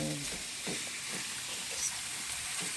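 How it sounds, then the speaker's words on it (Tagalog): Turmeric sautéing in a hot pan as escabeche gets started, a steady close sizzle and frying hiss with light stirring scrapes throughout, no talking. "Gigisa muna yung yung luya na dilaw."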